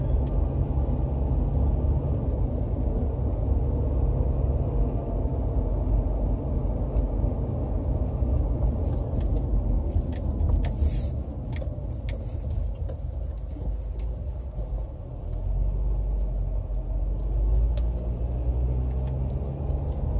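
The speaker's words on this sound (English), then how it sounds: "So currently I am in traffic." Car interior while driving in traffic: a steady low engine and road rumble continues throughout, with faint clicks and a brief lighter stretch midway, and no talking.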